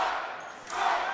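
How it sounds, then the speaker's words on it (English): Home crowd at a high school varsity basketball game, a broad roar of cheering in a packed gym that swells again toward the end, with a voice over it. "Now this crowd getting into it. A packed house here tonight"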